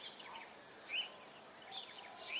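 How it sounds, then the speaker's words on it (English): Parrots outdoors give a scattered series of high, thin squawks and chirps, moderately distant and fairly faint against quiet background air. "Parrots squawk."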